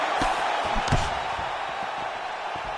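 A boxing crowd reacting to heavy punches exchanged in the ring: sharp thudding impacts with a loud, continuous roar of the crowd around them, voices mixed in.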